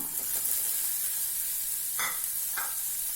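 Green peas tipped into a pan of chili powder masala for spicy sundal, a steady close sizzle of frying with a couple of brief stirring scrapes and no voices.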